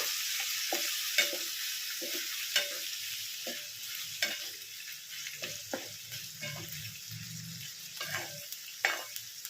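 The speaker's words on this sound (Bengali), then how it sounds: "দিয়ে একটু নাড়াচাড়া করে নিচ্ছি আগে ভালো করে।" Chilli chicken with tomato sauce is stirred in a frying pan, a soft steady sizzle broken by repeated scraping strokes of a spatula, close and alone.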